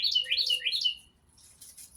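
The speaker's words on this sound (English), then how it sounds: "I guess that bird is telling other birds to come watch the show." A bird gives a quick run of four or five bright, high chirps up close, then falls quiet before a fainter flutter of sound.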